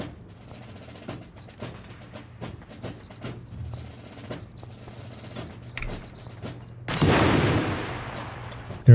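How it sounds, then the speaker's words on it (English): Anti-tank gun fire and battle noise from Company of Heroes 3, scattered sharp distant shots and thumps, then a loud heavy blast with rumbling decay near the end, with no voices. "Here's the anti-tank gun."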